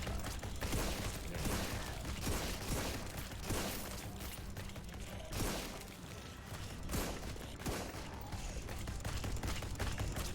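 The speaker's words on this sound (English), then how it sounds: "The machine gun seems to do nice damage." Machine gun firing in the video game GROSS: dense, sustained rattling bursts with recurring sharper blasts, loud and continuous under a busy game soundscape.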